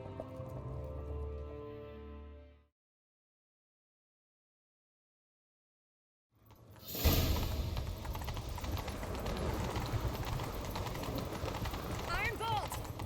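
Horse hooves thud in The Witcher 3 as a galloping horse runs after a silent gap, a dense rhythmic clatter under game noise, with voices talking earlier.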